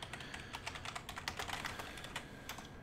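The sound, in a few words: typing on a computer keyboard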